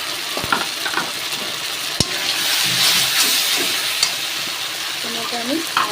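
Spice paste of ginger, garlic, dried chilli, coriander and cumin frying in a pan for fish curry: a steady, loud sizzle and hiss with occasional sharp taps of a stirring spoon against the pan.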